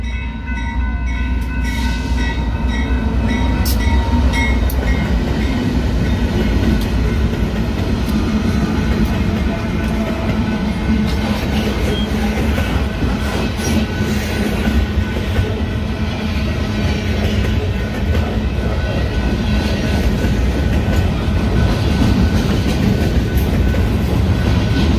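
A train rumbles steadily past near a long pier in Canada, a continuous close, loud rolling roar of rail cars lasting throughout, with no talk.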